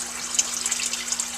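Water drains from a hydroponic tank overflow in a steady trickling, splashing stream with faint drips, close by under a low electrical hum.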